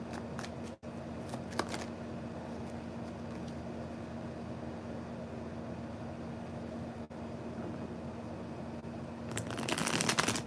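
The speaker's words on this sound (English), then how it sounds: "I'm gonna start shuffling for you." Tarot cards are shuffled in soft, repeated riffles and slides, a faint papery rustle running under a steady electrical hum, with a louder burst of card handling near the end.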